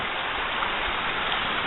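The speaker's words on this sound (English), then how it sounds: "Here's the creek. There's the creek down there here." A creek flows through Parfrey's Glen, making an even, continuous rushing wash at moderate level with no distinct splashes and no talk.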